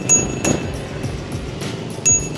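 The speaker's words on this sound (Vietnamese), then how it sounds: "Có chuông rất là hay." A bell on an ADO D30C electric bike dings twice, once at the start and once near the end. The rings are short, clear and bright over a low background rumble.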